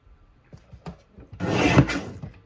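A single sheet of patterned scrapbook paper being cut on a paper trimmer: a few light taps, then one sustained raspy slide of the blade across the sheet, close and clear.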